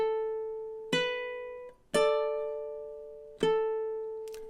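Ukulele chord melody with harmony notes, measure 5 played in time: three clear plucked chords spaced about a second apart, each ringing and slowly decaying, close and solo with no talk.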